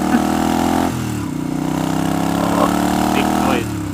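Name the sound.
motorcycle engine revving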